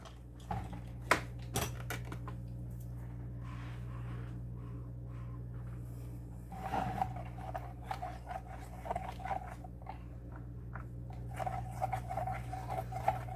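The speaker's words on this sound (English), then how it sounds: "we're going to get our soap out and stir it and see where we're at as far as the temperature" Melted glycerin soap base stirred in a pot, giving quiet intermittent scrapes and clinks of a utensil against the metal over a steady low hum, with no talking.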